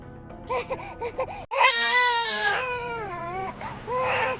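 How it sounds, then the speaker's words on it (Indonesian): An infant cries loudly and close, starting with short whimpering bursts, then breaking into long wailing sobs with brief gasps between them. No one speaks. "Ada suara bayi."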